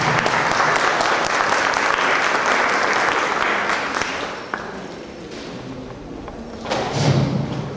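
A lecture audience applauds to welcome a speaker, loud sustained clapping that thins out and fades, then swells briefly again near the end, with a thump partway through.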